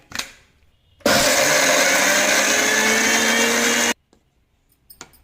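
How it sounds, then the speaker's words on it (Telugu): A kitchen mixer grinder blends chopped carrot in one loud, steady whir that starts abruptly, runs about three seconds and cuts off, with quiet before and after. "ఫస్ట్ ఒకసారి మిక్సీ పట్టుకొని తర్వాత మనము కొద్దిగా నీళ్ళు అనేది యాడ్ చేసుకోవాలా"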